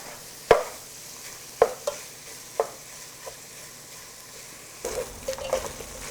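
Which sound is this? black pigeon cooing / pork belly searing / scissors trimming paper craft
pork belly searing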